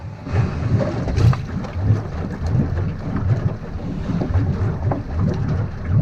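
A small dinghy's outboard motor exhaust burbles and flops through water in a steady uneven rhythm, close and loud, with wind buffeting the microphone.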